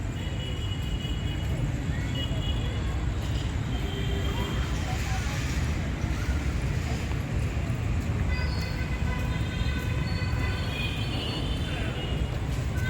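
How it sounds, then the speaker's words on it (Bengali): A train rolls steadily along a nearby railway line beside a park, a loud continuous rumble with faint higher squeals and clatter that lasts the whole stretch, with a person talking over it at times. "R ওপাশটায় rail line"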